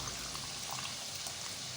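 A small amount of water poured into a pan of liver being fried, a short, soft trickling splash heard up close for a couple of seconds without any voices.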